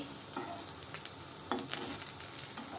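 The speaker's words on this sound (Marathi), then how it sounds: "आता आपण विदाउट पावाचे बर्गर शॅलो फ्राय करून घेऊ असे हे गोल्डन ब्राऊन होईपर्यंत परतून घ्यायचे" Semolina burger patties shallow-fry in a pan with a continuous close sizzle, punctuated by soft scraping and tapping as they are turned, no voices.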